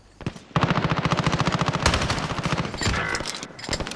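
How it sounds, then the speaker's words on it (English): Rapid automatic gunfire from a Call of Duty: Modern Warfare match, close and loud, firing in continuous bursts for several seconds with short pauses, punctuated by sharper shot impacts. "I'm being shot from behind."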